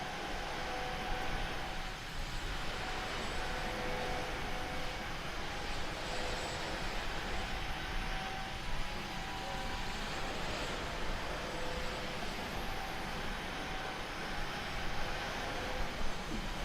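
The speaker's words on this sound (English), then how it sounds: "incredible how quiet this airplane is" An Airbus A320neo airliner in Microsoft Flight Simulator 2020 gives a steady, smooth engine hum with a faint tonal whine, low in level and unbroken for the whole stretch, with no voices.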